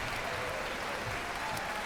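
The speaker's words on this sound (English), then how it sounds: "Round of applause" Applause from a concert audience after the U.S. Marine Chamber Orchestra, "The President's Own," performs Ravel's Bolero. Many hands clap in a steady, even wash at moderate volume.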